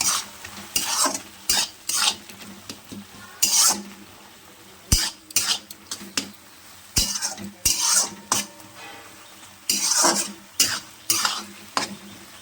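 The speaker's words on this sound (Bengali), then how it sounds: "এবার ভালো করে আবারও সব একসঙ্গে মিশিয়ে নেব।" A spoon scrapes and stirs through homemade tomato chutney after turmeric is added, sizzling in a pan: a close, irregular series of sharp clinks and scrapes with gentle frying beneath, no talking.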